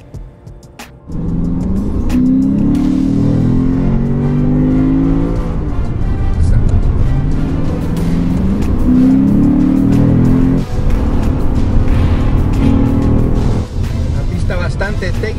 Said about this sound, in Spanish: El nuevo auto superdeportivo de Lexus, motor V8 de 5 litros con 467 caballos de fuerza.